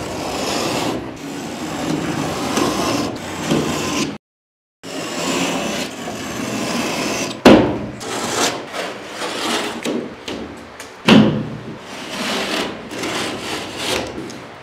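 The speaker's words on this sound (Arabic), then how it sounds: "كده السقف بتاعنا اتقطع من الاربع جوانب" A gypsum board ceiling is cut along marked lines with a hand saw, repeated rasping strokes close by, broken by a short silent pause and a few sharper knocks between passes.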